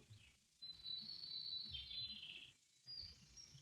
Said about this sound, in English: Sounds like birds in here.